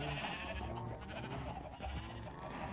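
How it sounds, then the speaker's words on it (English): Sheep bleating in a Minecraft farm pen beside a fence, several overlapping bleats layered over a busy background of game sounds, fairly quiet throughout with no talk. "Sheep, come here."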